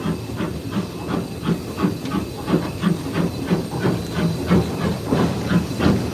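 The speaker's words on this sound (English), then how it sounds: "That's the main lever that controls the steam from the boiler to the cylinders." Steam hisses loudly inside the cab of a steam locomotive on the Isle of Wight Steam Railway as the regulator is opened, with rhythmic chuffing pulses repeating steadily up close.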